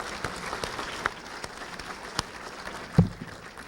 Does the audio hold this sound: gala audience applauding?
yes